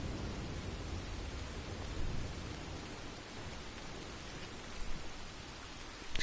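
Rain in Red Dead Redemption 2 as a storm thins out, a dense, even hiss of falling water with a low rumble beneath, steady throughout with a couple of small bumps near the end.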